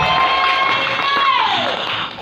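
Church congregation clapping and cheering together, a loud dense wash of applause and shouts filling the space and tapering off at the end.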